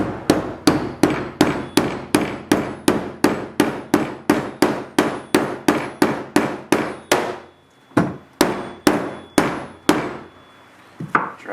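A mallet drives a fork seal bushing on a 2006 Honda 919, about two dozen sharp, evenly spaced strikes up close, then a pause and a few slower, separated blows.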